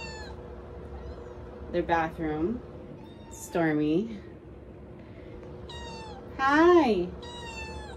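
Kittens meow in a cage in three distinct bursts, fairly close and loud, with a person speaking briefly between the cries.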